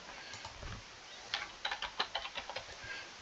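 Typing on a computer keyboard, with quiet, sparse key presses at first and then a quick run of close, crisp clicks in an irregular rhythm.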